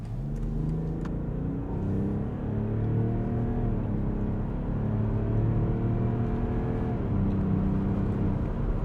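A BMW X5 40d diesel SUV pulls hard accelerating from 50 to 140 km/h on a motorway, its steady drone climbing in pitch, dropping briefly at gear changes, then climbing again, heard from inside the cabin.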